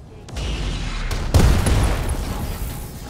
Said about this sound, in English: We're firing cluster ammunition.